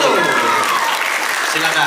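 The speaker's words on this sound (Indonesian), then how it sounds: "Kita lanjut tepukan buat Pandu Pangestu." Audience applause for a stand-up comedian at a comedy roast contest, loud and continuous throughout, with voices mixed in over the clapping.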